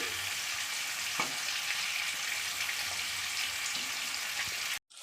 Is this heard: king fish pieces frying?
yes